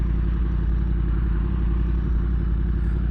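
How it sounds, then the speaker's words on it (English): A motorcycle engine runs loud and close on a hot street, a steady low rumbling drone that holds without pause and without any clear rise in revs. "When a girl asks you to rev the motor, you rev the motor"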